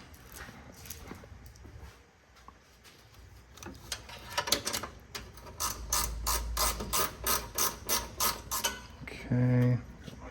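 Ratchet turning bolts during a radiator replacement on a Jeep TJ: a steady run of close, rhythmic clicking, stopping with a brief whirring burst near the end.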